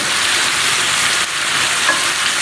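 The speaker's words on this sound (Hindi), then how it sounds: "इसको मैं 10 मिनट मज़ीद फ्राई करूँगी।" Steady, loud sizzling of chicken frying in hot oil with garlic and ginger paste, with a constant crackle and no voices.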